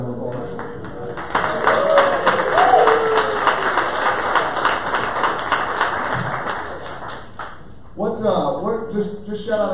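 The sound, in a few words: audience applause at sales meeting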